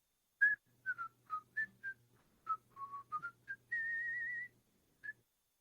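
A man whistles a jaunty tune as he leaves, a run of short chirpy notes, then one long warbling held note and a final brief chirp, close and clear over a faint low hum.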